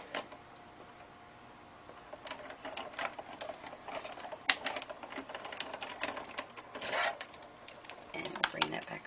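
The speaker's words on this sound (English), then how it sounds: "we're going to run that through our Cuttlebug" A Cuttlebug die-cutting machine cranking stacked plates through, with close irregular clicking, ratcheting and rattling that build in bursts over several seconds.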